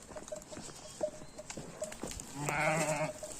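Faint shuffling and hoof clatter in a barn, then one loud, drawn-out sheep bleat close by.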